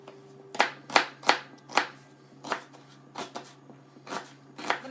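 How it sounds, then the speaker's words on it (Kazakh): Kitchen knife chopping onion on a board while preparing German-style beshbarmak, about ten sharp, close chops at an uneven pace with short gaps between, no voices. "Қазір енді жуамызды тураймыз."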